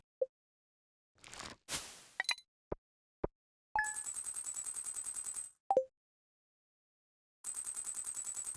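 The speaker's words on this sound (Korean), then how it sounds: "한밤중에 무언가 폭발하는 소리" Meteorite striking at night in the farming video game Stardew Valley: a short burst of rapid mechanical rattling and clinks, then sharp pops and a long rhythmic clattering stretch, a pause, and the rattling resumes, loud and alone.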